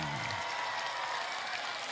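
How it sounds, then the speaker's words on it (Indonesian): Thousands of spectators on a village field in Dadap, Indramayu, applaud at an outdoor show: a thick, constant rush of distant clapping, with a faint voice at the very start. "Iya, semuanya tepuk tangan."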